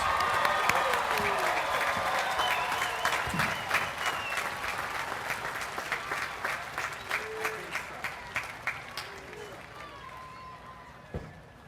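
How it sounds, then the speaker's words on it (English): Sustained applause for graduates at the Millersville University 2015 spring commencement, a broad crowd roar of clapping that thins into sparser, distinct claps toward the end, with a voice over a loudspeaker at the start. "Can we have one more round of applause for all the graduates today?"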